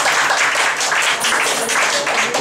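An audience at an inter-college mime competition breaks into brief, dense clapping that sounds close and fairly loud, with a voice faintly underneath.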